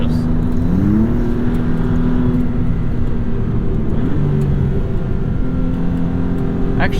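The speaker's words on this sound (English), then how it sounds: "that gearbox is instantaneous. Listen to these downshifts." A 2022 Maserati MC20 drops through quick downshifts, its engine note stepping up sharply with each gear change under a steady roar of road and wind noise, heard close from inside the car.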